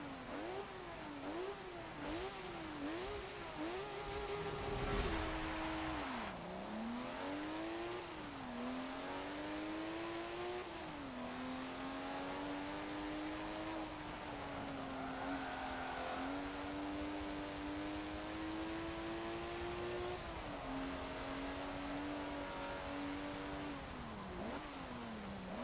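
A 2005 TVR Sagaris in Forza Motorsport 7 laps a race circuit, its engine droning steadily and rising and falling as it shifts through gears, with brief sharp revs early on and no talking.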